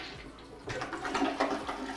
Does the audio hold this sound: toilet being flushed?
yes